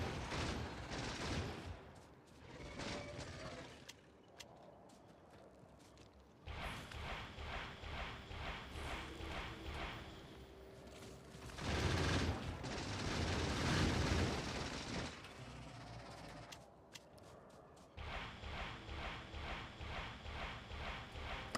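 Rockets firing in the video game Factorio: Space Age, heard as dense, rapid bursts of launches and impacts that come in loud waves with brief lulls between them.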